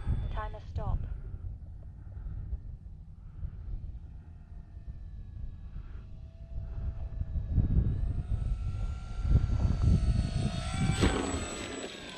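An Arrows RC Bigfoot radio-controlled model plane flies overhead and comes in to land. Its buzzing propeller whines and shifts in pitch, growing louder toward the end, with wind noise on the microphone and someone talking over it.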